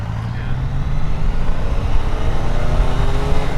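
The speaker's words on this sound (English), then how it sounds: "You have to try changing gear without the clutch" Motorbike engine running steadily and close through a clutchless upshift, a low continuous drone with a rumbling tone that lifts slightly toward the end, no voices.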